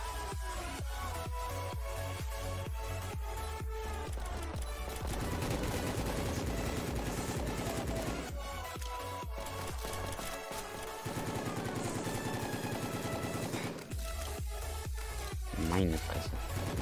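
Dense, sustained gunfire in the Roblox game Prison Life, long rattling volleys and clustered shots overlapping continuously at moderate loudness beneath game sounds.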